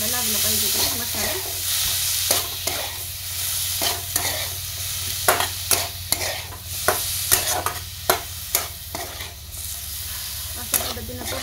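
Broad bean pods sautéed with masala in a pan give a steady soft sizzle, broken by repeated sharp scrapes and clacks of a spatula stirring at an uneven rhythm, close up with no talking.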